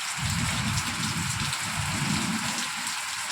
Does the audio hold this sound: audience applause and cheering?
no